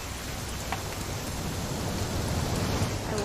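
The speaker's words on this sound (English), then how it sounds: "It's gonna rain the whole weekend, isn't it?" Steady rain falling during a weekend hunting trip in the video game What Remains of Edith Finch, a continuous hissing wash with a few faint drips, even and moderately quiet throughout.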